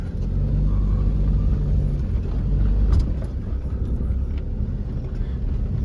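A car driving along a village road in the mountains of the Swat and Lower Dir region, giving a loud, steady low engine rumble with road noise throughout and no speech.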